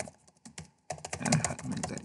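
Keys on a computer keyboard clatter as an email address is typed, a few sparse taps and then a quick, steady burst of close, crisp keystrokes with no voice over them.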